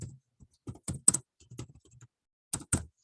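Keys clack on an English-layout computer keyboard in a classroom, short bursts of close taps separated by pauses.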